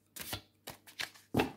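Tarot cards are shuffled by hand in short bursts, three or four quick riffles and slaps spaced across a second and a half, close and fairly quiet with no talking.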